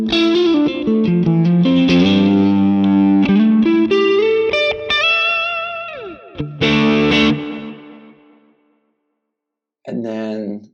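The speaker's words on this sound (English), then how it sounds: "you can kick it with an overdrive in the front" Electric guitar through a Lone Star amp plugin with an overdrive stacked in front, playing saturated chords and sliding lead notes with chorus-like shimmer, fading out into silence before a short final strummed burst.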